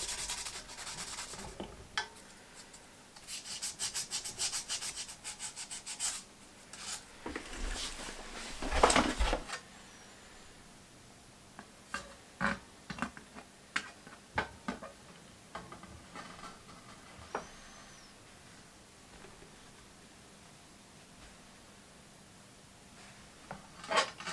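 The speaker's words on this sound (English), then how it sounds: "I've got some of this foam which has got a abrasive on it, so I think I'm going to give it a clean using that." An abrasive foam pad scrubs a part from a vintage Cossor 238 radio with close rubbing and sanding strokes in irregular bursts, heavier early on, then sparse soft scrapes and ticks with quiet pauses.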